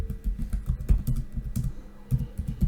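Rapid typing on a computer keyboard while entering text, with irregular clustered key clicks and thuds continuing steadily and close by, no talk.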